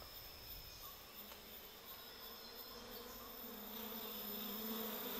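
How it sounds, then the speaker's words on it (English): Giant Asiatic honey bees, the largest honeybees, drone steadily at their open-air nest high in a tall tree, a dense, continuous buzz of many insects that swells slightly toward the end. "These are the giant Asiatic bees, the biggest of all honeybees."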